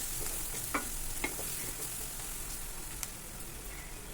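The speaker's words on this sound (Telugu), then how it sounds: "ఇదంతా చక్కగా మిక్స్ చేసుకోండి. బాగా ఫ్రై అవ్వాలండి ఆనియన్." Onions frying with curry leaves and turmeric in a pan for mushroom curry, a steady close sizzle with a few sharp clicks of a spoon stirring through it, no voices.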